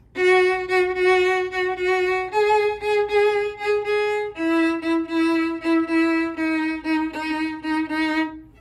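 Bowed violin chords sound in a steady, repeated rhythm, each held note shifting pitch every couple of seconds, played up close and fairly loud.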